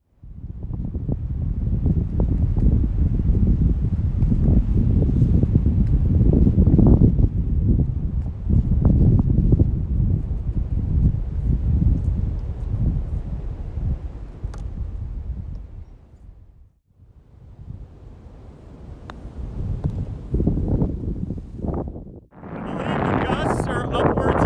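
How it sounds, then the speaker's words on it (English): Strong, gusty wind of up to 40 mph roars across an open golf course links, buffeting the microphone in loud, sustained blasts that ease briefly before surging again. "Upwards of 40 miles an hour with a constant wind of about 20"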